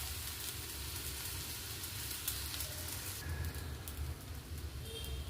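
A soft set dosa cooks on a hot pan with half a spoon of oil, giving a steady, close hiss and crackle of frying throughout, with no voices.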